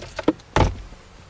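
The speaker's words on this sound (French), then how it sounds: "Voici le coffre à gants." Glove compartment of a 2014 Mazda CX-5 GS opening inside the car: two quick small clicks of the latch, then a louder plastic thunk as the lid drops open, close and clear.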